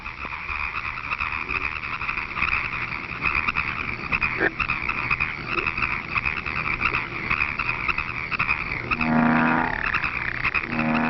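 Deep, throaty bullfrog croaks repeat over a steady droning background, with one louder, resonant call near the end; no voices.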